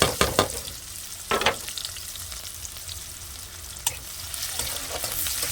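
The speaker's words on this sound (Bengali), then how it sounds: "জিরাটা কিন্তু ভাজা হয়ে গেছে একটু আর এই যে পেঁয়াজটা দিয়ে দেবো" Onion dropped into hot oil with cumin seeds, a continuous close sizzle of frying with a few sharp clattering stirs and pan knocks breaking through, no voices.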